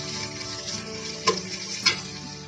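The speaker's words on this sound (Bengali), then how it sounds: "আমি বরবটিগুলো একটু ভেজে নিয়েছি" Long beans and other vegetables frying for fried rice, a steady close sizzle with two sharp clicks of a utensil against the pan.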